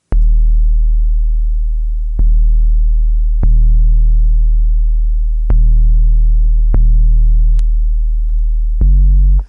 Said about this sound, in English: You hear that nice bit of like soft tape distortion it adds